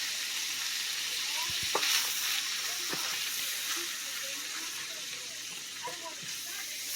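Flour stirred and cooked into sausage drippings in a pan for biscuit gravy: a steady, moderately loud sizzle with scraping strokes of stirring, a few low knocks and faint speech underneath.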